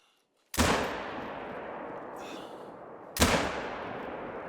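A Malmer 7mm Magnum rifle in theHunter: Call of the Wild fires twice, about three seconds apart, each shot a loud sharp crack followed by a long rolling echo that fades slowly.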